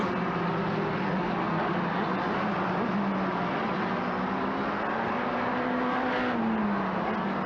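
MRF race cars circling the track through turn 9, a continuous loud engine drone with rising and falling pitch as the field passes, no voices over it.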